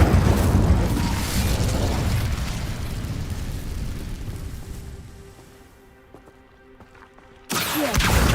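Hogwarts Legacy's Incendio fire spell erupts in a loud, roaring burst that slowly fades toward near silence, then another sudden blast cuts in at the end.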